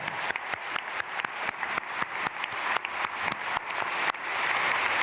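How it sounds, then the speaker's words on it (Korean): A church congregation at an early-morning prayer service claps for a deacon and her family after a testimony, with sharp, distinct hand claps that thicken into fuller, louder applause toward the end. "오늘 간증해 주신 우리 권사님과 가정에 박수하겠습니다."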